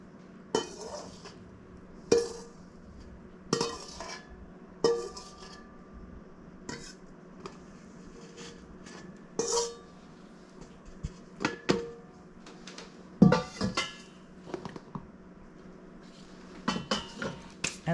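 A container of homemade pancake and waffle mix is tapped and shifted on a kitchen counter to settle the powder, giving sharp clinks and knocks spaced every second or two against a quiet background.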